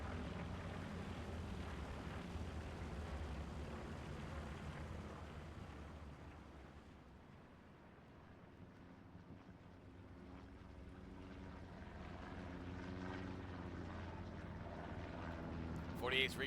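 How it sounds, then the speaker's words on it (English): Reconnaissance plane droning past in a team tank battle video game, a low continuous engine hum that swells, dips and returns amid wind-like rumble, while a commentator speaks over it. "48's recon plane goes in"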